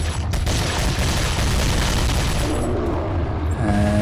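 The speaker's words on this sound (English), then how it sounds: "Let's throw a grenade that should damage him a little bit." A grenade blast in the Resident Evil 4 boss fight rolls into a long, dense roar of rumble and debris that fades after about three seconds, leaving quieter game tones.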